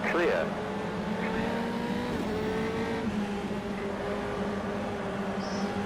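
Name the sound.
Formula 3 race car engine at Macau, racing video game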